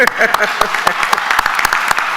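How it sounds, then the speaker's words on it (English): A round of applause at a Rockdale County Board of Commissioners meeting, with scattered individual claps over a steady patter from a small seated group, people talking over it. "Give him a round of applause."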